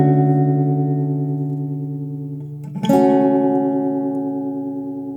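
An acoustic guitar through a ToneWoodAmp Leslie rotary speaker effect at a fast rate: a sustained strummed chord wobbles rapidly, then a fresh strum rings out loud and close and decays slowly.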